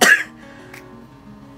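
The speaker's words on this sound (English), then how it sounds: "I still have a cough." A single sharp cough from a woman, loud and close at the very start, then a quiet room with faint background music.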